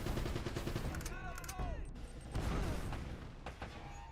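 Grenade explosions and gunfire in the action game Uncharted, dense booms and rattling shots blending into a continuous loud barrage, fairly close.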